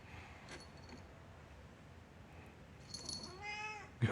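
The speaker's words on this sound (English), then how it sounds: "Hey, kitty." A cat meows a few times, quiet at first and then louder, with a drawn-out, wavering cry near the end, indoors at close range.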